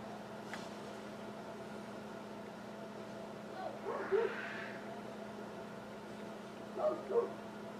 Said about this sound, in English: hear the dog barking in the background